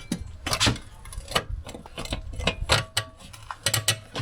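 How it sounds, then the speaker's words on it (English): Loose bracket rattling on a Range Rover 4.4L SDV8, close metallic clatters and ticks in irregular bursts of tapping knocks. "all I gotta do to get rid of that rattling noise is take this bracket here and bend it a little bit over"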